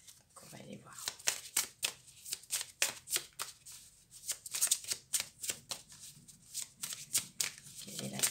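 Playing cards are shuffled again and again up close, crisp riffling flutters and snaps in a steady rhythm, with a soft voice briefly audible at the start.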